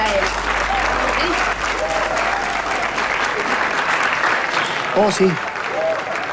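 Audience applause welcomes Simón of the Roller skating group onto a stage, steady clapping throughout with cheers and a short sung or spoken bit near the end, voices audible over the crowd.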